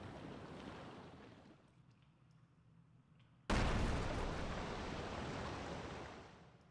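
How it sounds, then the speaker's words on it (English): In the video game Ys: Memories of Celceta, an explosion busts open a wall: a sudden loud blast cuts in after a quieter stretch and gives way to a sustained, rushing roar. "Explosions."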